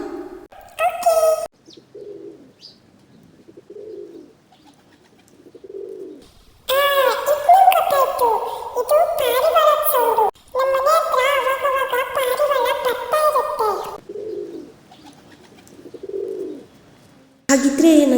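Pigeon cooing in short soft low phrases, with louder stretches of speech between the calls.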